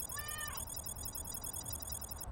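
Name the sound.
cat meowing in The Incredibles sound replacement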